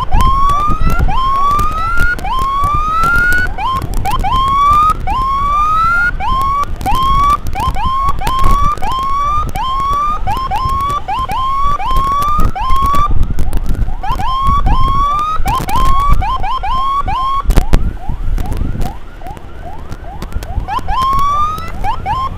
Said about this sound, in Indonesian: kita lihat ada ambulan di belakang